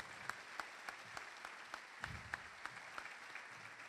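Faint, distant applause at a political rally in Tucumán welcoming Agustín Rossi, with steady crowd clapping and a few sharper individual claps standing out.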